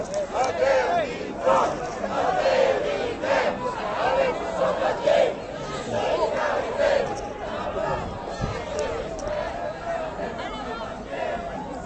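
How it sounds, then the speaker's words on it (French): Steady hubbub of a big crowd gathering and growing in Place de la République for a Nuit Debout assembly, overlapping voices and occasional raised shouts forming a continuous dense murmur. "Donc grande foule hein, qui commence à s'agrandir."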